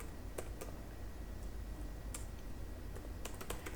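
A command is typed on a computer keyboard, giving scattered crisp key clicks with a quick burst near the end over a faint steady hum. No one speaks.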